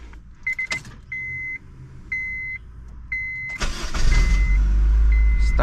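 A car boosted by an AUXITO jump starter and running on E85 chimes a few times, then the engine cranks and catches, settling into a loud, steady idle close by.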